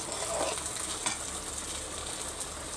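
Bottle gourd sautéing in a pan with hot oil, a constant close sizzle with light scraping stirs of a spatula, no voices present.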